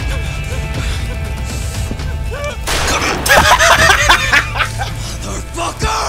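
A gunshot in the video game Judgement lands midway as a sudden loud crack, followed by a burst of excited voices and laughter over a low background hum.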